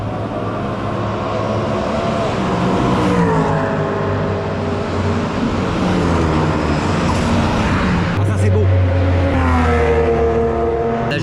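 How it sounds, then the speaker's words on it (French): Race cars, including GT3 machines, run on the track at Le Mans with a loud, continuous engine roar. The pitch rises and falls as the cars sweep past, one after another. "on va se regarder des petits bolides passer là"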